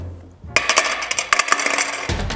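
Several coins clatter and jingle into a metal bus fare box in Busan in a quick burst, bright metallic chinks tumbling together over about a second and a half, close up.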